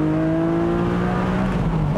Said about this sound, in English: That is the sound of perfection right there, a flat six that's howling away